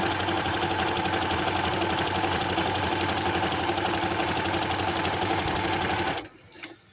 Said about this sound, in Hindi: उसी मार्जिन को हम अंदर दबाकर इसकी सिलाई लगा देंगे